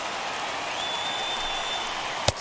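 A stadium crowd of some 29,000 rising to its feet in the baseball video game MLB The Show 21: a steady, dense roar of cheering and applause through the whole stretch, with a faint high tone and a sharp crack near the end.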